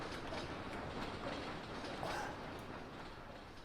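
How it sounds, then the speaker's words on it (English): A model train starts up and runs along its track with a steady, fairly close rumbling clatter of wheels that holds evenly throughout, with no talking. "So let's start that train."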